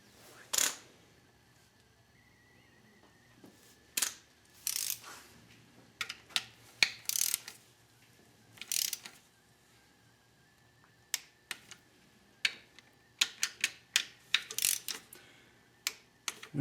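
Sharp ratchet clicks come in short bursts, with pauses between them, as valve cover gasket bolts on a Chevy Cavalier are tightened in a crisscross pattern. The clicks are close and crisp over a quiet background, and no one is talking.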